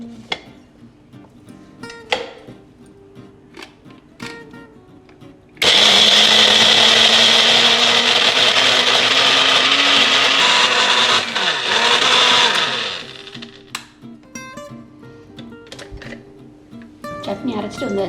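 A mixer grinder grinding garlic chutney with a little water whirs loudly and steadily for about seven seconds, its motor pitch shifting slightly, with quieter kitchen clatter and talk before and after.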